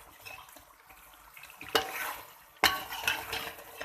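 Mutton gosht being stirred and fried in a pot for bhuna gosht, heard as soft scraping and clattering. Two sharper stirring scrapes and knocks rise above a quiet, low sizzle.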